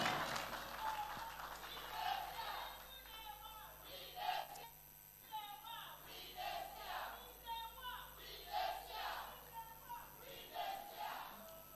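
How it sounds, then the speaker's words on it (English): At a government citizen engagement forum in Enugu, an audience applauds for the president in repeated faint bursts of clapping and cheering, somewhat distant, with a voice on the public address in between. "Won't you clap for the president here"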